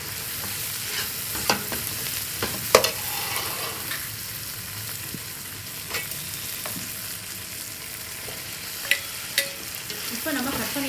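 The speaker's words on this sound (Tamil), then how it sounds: "1 கட்டு புதினா, 1/2 கட்டு கொத்தமல்லி எல்லாத்தையும் சேர்த்து நல்லா வதக்குங்க." Fresh mint and coriander sizzle as they are sautéed in hot oil for prawn biryani, a steady close frying hiss with scattered spoon scrapes and taps against the pan.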